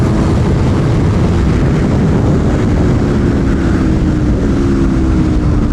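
An Aprilia Tuono V4 1100 Factory motorcycle runs a lap on a race track, its engine a loud continuous roar with a slowly shifting pitch, heavily buffeted by rushing wind at the microphone.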